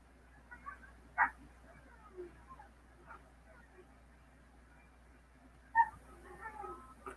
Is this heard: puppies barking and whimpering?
yes